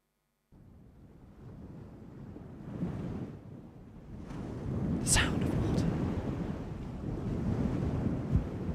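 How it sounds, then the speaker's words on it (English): Rushing water, waves or surf, from the Guild Wars 2 trailer opens after a brief silence and swells into a steady, roaring wash. A sharp high splash or whoosh cuts through partway, with a low thud near the end. "Sound of water."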